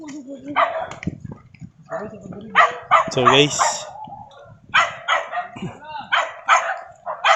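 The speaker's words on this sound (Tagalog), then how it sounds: "Daming aso dito guys." Several dogs barking in a rural farm setting, with repeated bursts of yaps and barks at varying distances, mixed with someone talking and breathing heavily while walking on a muddy path.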